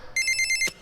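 A telephone rings in a cartoon, one burst of rapid electronic trills lasting about half a second, fairly loud and close, with no talk over it.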